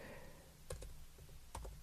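A few clicks of keys tapped on a computer keyboard while entering a zip code, in two short clusters, fairly faint and close, with no talk.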